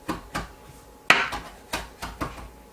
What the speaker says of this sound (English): So I'm going to take these pieces and cut them.